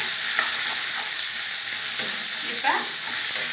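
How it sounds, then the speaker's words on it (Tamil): Onion, ginger, garlic and chili sautéing in a pan for mango rice, a steady close sizzle with occasional scraping stirs, heard alone without talk. "ஒரு வெங்காயம் போட்டு இதை நல்லா வதக்கலாம்"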